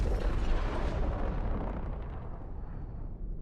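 A caterpillar unit explodes in a video game: one loud, broad blast that rolls on as a rumble and slowly fades over a few seconds, with no talking.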